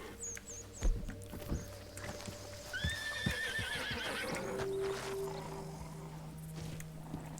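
A horse whinnies and snorts while hooves clop in Red Dead Redemption 2, set against outdoor ambience with a drawn-out neigh in the middle and a low steady hum toward the end, close and moderately loud.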